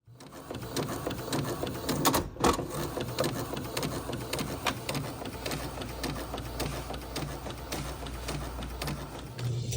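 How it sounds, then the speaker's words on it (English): A sublimation printer runs continuously with a busy mechanical whir and rapid rhythmic clicking, steady and fairly close throughout. "So our printer printing"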